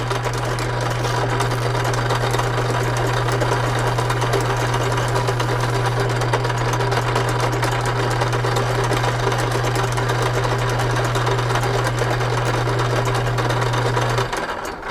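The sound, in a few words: sanding a Winchester 1894 screw with sandpaper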